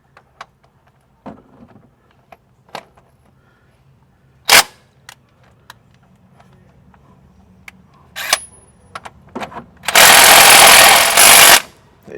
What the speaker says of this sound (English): I've got a 1 1/16 socket on this portable 20-volt impact gun